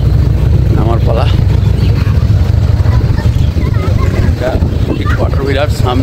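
Boat motor running as the vessel pulls up at an island in the Maldives, a steady loud low rumble throughout with wind and water noise, while people talk over it.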